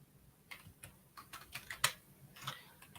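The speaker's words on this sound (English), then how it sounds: "I'm still typing" Computer keyboard typing in quick irregular bursts of clicky keystrokes, fairly close and moderately loud, with no talking over it.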